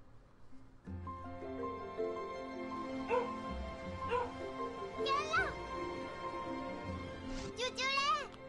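Dog barks, yips and whimpers from a dog named Zoe in Gravity Rush 2, a few short bursts over a steady game music bed, with a person talking and laughing through it.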